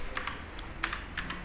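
A command being typed on a computer keyboard, a quick, irregular series of crisp key clicks at close range with short pauses between keystrokes.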